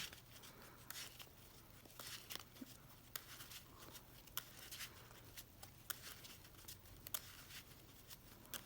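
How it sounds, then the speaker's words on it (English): A deck of trading cards for a Gouki combo deck is shuffled up close, giving steady papery riffles and crisp snaps repeated over a quiet low hum, with no talking. "So let's shuffle up good."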